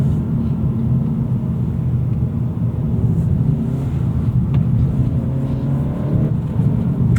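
A turbocharged Acura Integra engine pulls hard in second gear, a close steady low rumble with a faint rising whine as revs climb.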